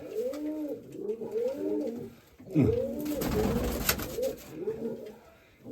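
Mykolaiv pigeons coo close by in a Kamianske loft, several birds producing repeated low rolling calls without a break, with a short burst of rustling or flapping noise in the middle.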